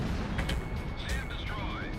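Surface-to-air missile site blown up by a missile in the Ace Combat Zero flight combat game, a heavy rumbling blast with crackling bursts over a dense, continuous battle din and a faint whine of aircraft.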